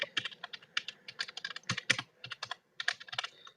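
Rapid, uneven keystrokes on a computer keyboard as someone types into a chat box, close and clear with short pauses between bursts, no talking.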